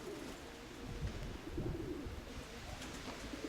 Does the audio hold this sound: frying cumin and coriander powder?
no